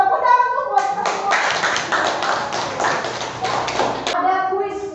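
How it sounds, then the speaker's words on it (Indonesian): A classroom of students claps hands together for about three seconds, a dense, steady burst of applause indoors, with talking before and after it. "Tepuk tangan tuh buat kita semua."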